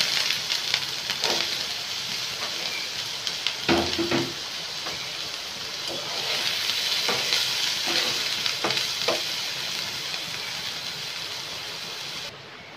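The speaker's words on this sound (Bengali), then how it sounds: "আগে পেঁয়াজ কুচিটা দিয়ে দেবো" Chopped onion fries in hot oil in a pan for an egg and potato paratha, a continuous crackling sizzle punctuated by repeated scraping and knocking of a spatula as it is stirred.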